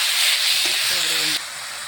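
Spice paste of onion, ginger, garlic, cumin and mustard sautéing in a pan, a steady loud close hiss and sizzle that drops a little near the end, with a voice briefly audible over it.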